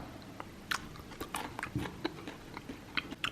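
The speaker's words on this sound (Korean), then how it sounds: "이 윗부분에 크런치들이 사실 굉장히 맛있어요." Crunchy honey butter garlic fried chicken bitten into up close, a few sharp crackling crunches followed by soft chewing, alone without speech.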